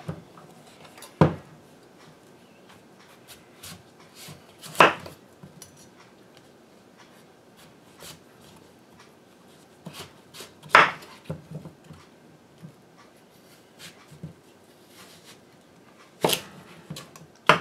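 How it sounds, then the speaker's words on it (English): A knife cuts heirloom squash into thick slices on a board, with isolated sharp chops every few seconds over a quiet background and light handling noises between them. "I'll cut this piece into about 1 inch thick slices"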